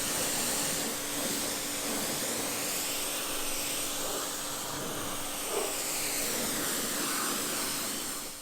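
An MTM Hydro rinse gun sprays water in a steady, loud, broadband hiss that holds for the whole stretch with only slight swells, close by, with no voices.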